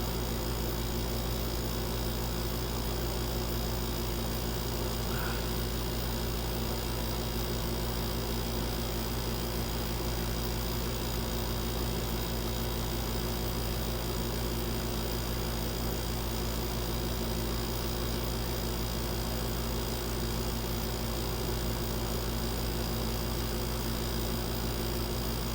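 A struggling GE air conditioner runs in a bedroom, a loud, steady broadband roar with a constant hum that goes on unchanged throughout.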